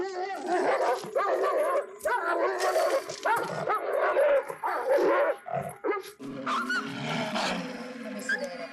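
A dog whimpers and yips in a tense TV drama scene, its high whines coming in short bursts that recur over steady background noise and music.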